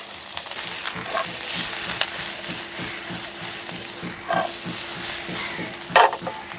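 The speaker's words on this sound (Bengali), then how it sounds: "সব ভেজিসগুলো হাই ফ্লেমে ভালো করে ফ্রাই করে নেব" Chopped garlic, ginger, capsicum and onion fry on a high flame for chilli paneer, giving a loud, constant sizzle with intermittent scrapes and knocks of stirring close by.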